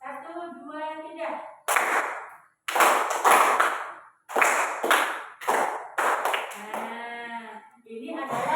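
A rhythmic pattern of hand claps in a fifth-grade class on recognizing patterns: one clap, then two, then one, then two, spaced by short gaps, close and clear, with a teacher talking before and after.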